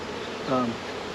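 Honeybees from a dropped full hive box buzz in a brief, close drone, with a single bee's pitch sweeping past over the steady background hum.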